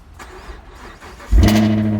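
A Chevrolet Camaro's engine cold-starts by remote in snow, faint rumble giving way to a loud cranking catch that settles into a close, steady idle.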